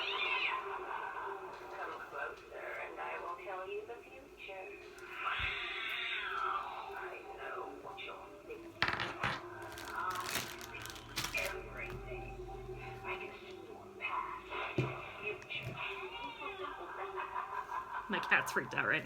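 A frightened, agitated cat meows over and over indoors, its drawn-out, wavering cries rising and falling, mixed with bursts of clattering noise and a person talking.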